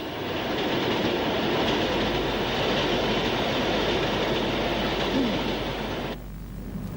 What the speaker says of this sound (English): an express bound for Shrewsbury, powered by a Hall Class 460,